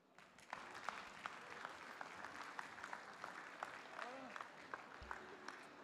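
Audience applause at a school presentation event, sustained dense clapping from a crowd across the whole stretch with a few sharper claps standing out, fairly distant and even in level.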